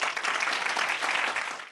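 Brief burst of bright, dense applause during a Korean classroom lesson, steady for under two seconds before cutting off abruptly.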